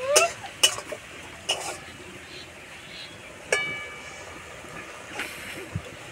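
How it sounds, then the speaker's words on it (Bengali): The lid comes off a cooking pot of simmering matar greens with aubergine and bori, giving a few sharp metallic clanks and clinks against a quiet kitchen background, with a longer ringing scrape partway through. "এবার চাপাটা খুলে দেব।"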